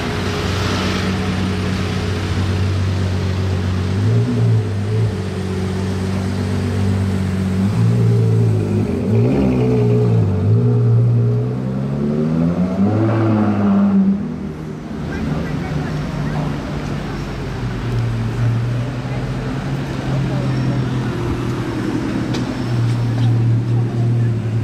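A Ferrari 812 Competizione V12 supercar pulls away and revs, its engine note rising and falling before fading into a steady roadside rumble, with people talking excitedly nearby.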